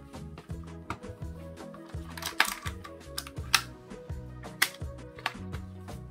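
Rapid typing on a Razer Huntsman Mini 60% keyboard with clicky optical switches and an aluminum top plate: a dense, steady run of sharp, close keystroke clicks, with no one talking.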